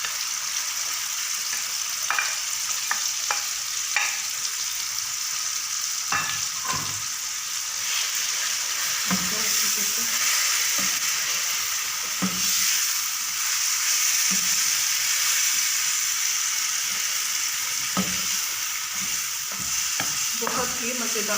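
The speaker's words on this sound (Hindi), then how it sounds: "अब इसमें बैंगन डाल देंगे जो हमने भून के मैश किए हुए हैं" Mashed roasted brinjal fries in ghee in a pan with a steady loud sizzle while a spoon repeatedly scrapes and stirs, giving irregular knocks and scrapes over the continuous frying, close up.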